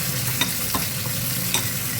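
Tempering for tomato pulusu crackling in hot oil with curry leaves and asafoetida, a loud continuous sizzle broken by a few sharp spattering pops and stirring scrapes, no voices.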